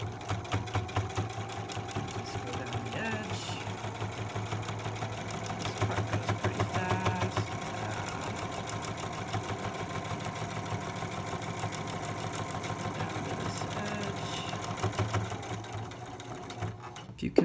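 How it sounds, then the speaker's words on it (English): A sewing machine stitching through thick layered fabric and elastic while making a face mask, running steadily with a rapid mechanical chatter and slight strain throughout, close and continuous before stopping at the end. "Your machine may sound a little cranky, but it's just trying to get through all that fabric."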